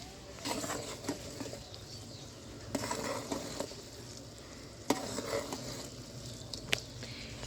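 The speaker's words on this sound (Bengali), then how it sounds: "এটাকে একটু ঘন ঘন নাড়তে হবে যাতে এটা নিচে থেকে ধরে না যায়" Boiled milk for pitha stirred in a pot, a spoon scraping and clinking against the metal in irregular strokes over a soft bubbling patter, close and moderately quiet with no talk.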